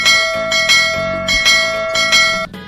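A bright bell sound effect for a subscribe button rings out loudly, struck about five times in an even rhythm, each ring decaying before the next, with no talk over it.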